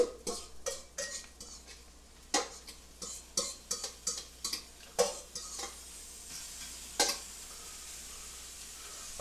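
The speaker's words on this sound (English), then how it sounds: "I'm going to add my meat now with my onions and get that raging up." Corned beef and onions sizzling in a hot pan, with a soft continuous sizzle under repeated clinks and scrapes of a utensil against the pan, close up, busier in the first half and quieter toward the end, no talking.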